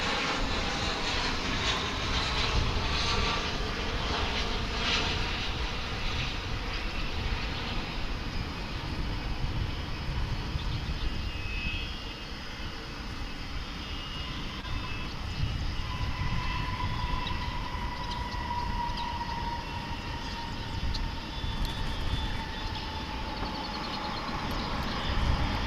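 American Airlines flight 2563 from Austin lands on a runway at Dallas/Fort Worth International Airport, its jet engine roar broad and steady for the whole stretch with a rising whine, loud and continuous and with no talk over it.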